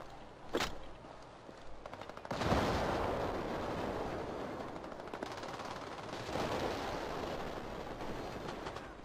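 Gunfire in the video game Battlefield Play4Free: a sharp shot early, then a longer burst of rapid fire blending into a rumbling wash, with another swell of firing later, moderately loud.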